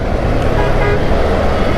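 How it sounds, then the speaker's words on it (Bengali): Dense road traffic with cars and buses rumbling steadily and a car horn tooting, loud and close throughout. "ভালো চাপ আছে আজকে গাড়ির দেখা যাচ্ছে।"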